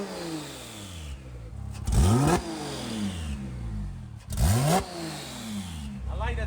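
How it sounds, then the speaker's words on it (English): A rebuilt Porsche 911 Turbo engine, running without intercooler pipes, revs twice in sharp rising bursts, each followed by a falling whoosh, between stretches of steady mid-pitched running that sound close by. "like that turbo noise. Sounds good."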